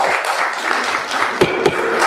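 An audience at a Cape Coral city council meeting applauds for about two seconds, a steady wash of clapping heard close with a few sharper individual claps near the end.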